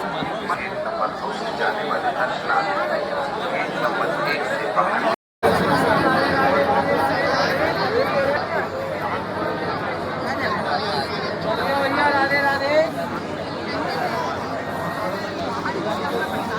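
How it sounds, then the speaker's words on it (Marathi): A packed crowd at Banke Bihari temple in Vrindavan fills the air with loud, continuous babble of many voices talking at once, broken only by a brief cut. "खूपच गर्दी आहे"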